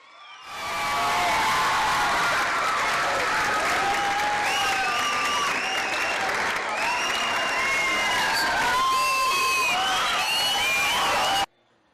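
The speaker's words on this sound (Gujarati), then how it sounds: "જોરદાર તાળીઓ મિત્રો." Loud applause from a seminar audience at a career guidance event, continuous dense clapping mixed with cheers and whistles, building quickly and holding for about ten seconds before stopping sharply.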